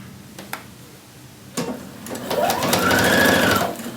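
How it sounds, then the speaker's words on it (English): A sewing machine stitches shirt shoulder seams at a regular stitch length: a few light ticks first, then the motor whirs up into a steady fast rattling run that rises in pitch and then eases off. "Stitch the shoulder seams using a regular stitch length, not a base, just a regular stitch length."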